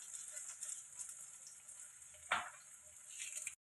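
Urad dal, small shallots and garlic sautéing in a pan for perandai chutney, a steady soft sizzle with a brief louder stir or scrape near the middle and no talking.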